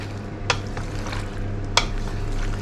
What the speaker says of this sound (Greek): Έτσι τώρα ανακατεύουμε το σύγκλινο.